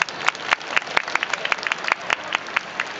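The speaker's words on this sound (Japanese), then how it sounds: "大崎選手、熊代選手に今一度盛大な拍手をお送りください。" Audience applause at a Lions baseball fan thanks event, a scattered, moderately quiet patter of individual claps with distinct sharp hand strikes spread across a few seconds.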